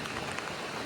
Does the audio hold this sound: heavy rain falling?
yes